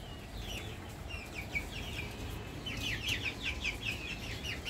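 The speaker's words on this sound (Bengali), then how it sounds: "এটা হচ্ছে দেশি মোরগ। আর পাশে যেটা মুরগি আছে এটা হচ্ছে আপনার সোনালী মুরগি।" A native rooster and a Sonali golden hen cluck in a garden on a rainy morning. The quick strings of short, faint calls grow busier halfway through over a constant hiss of background noise.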